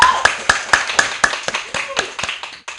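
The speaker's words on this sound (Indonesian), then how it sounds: "Sekali lagi kita beri tepuk tangan yang meriah" A small audience claps for chess athlete Trisna in a podcast setting, a dozen or so crisp, evenly spaced claps near the microphone that loosen and thin out toward the end.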